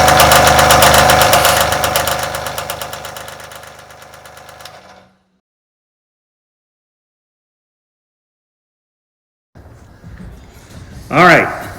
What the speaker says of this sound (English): Now they'll go to the drill press to drill axle holes in it.